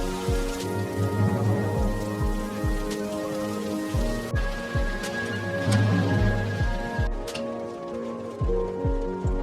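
Rain pours down in a steady, even hiss, mixed with a rhythmic musical backing that carries through the whole stretch.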